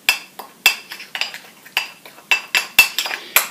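Rapid, irregular clinks ring out as rice flour is stirred quickly in a bowl, sharp metallic taps in quick succession, close and alone with no talk.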